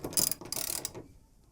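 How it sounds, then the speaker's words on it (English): A 17 mm wrench tightens a rusty bolt down into wood during a barn door installation, giving a close, dry ratcheting creak and crunch as the wood compresses, then the sound fades out. "Squeeze it till you hear the wood crush."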